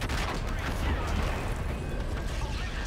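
Dense game gunfire and explosions in Infinite Warfare, a constant loud barrage of shots and booms with talk layered over the top.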